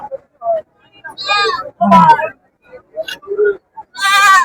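Several short, wavering bleats from young goats at a village goat market, close by, spaced irregularly with brief pauses, the last one longer and louder.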